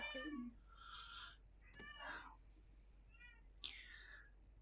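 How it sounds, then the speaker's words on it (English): Domestic tabby cat meowing repeatedly indoors, several drawn-out plaintive meows with short gaps, heard quietly but clearly on its own. "The extra meowing in the background"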